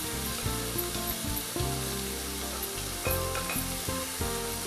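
Marinated meat for Hyderabadi biryani sizzles loudly in a pot, with a steady near hiss, stirring scrapes and bursts of spatter, no voices.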